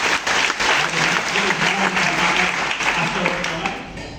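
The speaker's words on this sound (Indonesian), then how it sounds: "Boleh tepuk tangan buat Yesus." A church congregation at a revival service claps together, a loud, sustained wash of hand claps with a voice speaking faintly beneath it.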